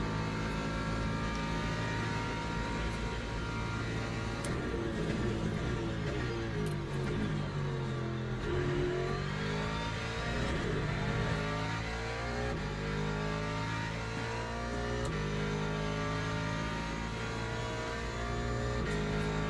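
A Ford race car's engine in the Le Mans Ultimate racing game, a loud, continuous meaty drone with rising and falling revs through gear changes, sustained for the whole stretch.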